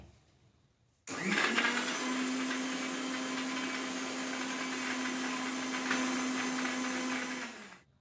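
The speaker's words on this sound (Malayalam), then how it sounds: "പഞ്ചസാരയും കൂടി നമുക്കത് മിക്സിയിൽ നന്നായി ഒന്ന് അടിച്ചു കൊണ്ടുവരാം" A mixer grinder blending milk and sugar whirs up abruptly and runs at a steady, loud, high-pitched drone for several seconds before cutting off near the end.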